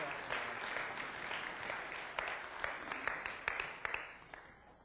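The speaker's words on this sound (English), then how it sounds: "Let's give these guys a round of applause, though, as they head back to your seats." Applause from a church congregation during a Sunday sermon service, steady and fairly full, with a few sharper individual claps standing out near the end as it carries on for several seconds.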